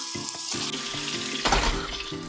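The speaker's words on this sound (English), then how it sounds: "Now, you can see the oil's already heated up. We're gonna stick our onions in." Onions hit hot oil in a pan and set off a steady, crackling sizzle, with a few knocks and bumps from a utensil along the way.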